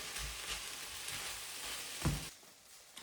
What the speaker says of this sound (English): I'm going to add in, just straight into the pan, 100 grams weighed out raw and cooked of white rice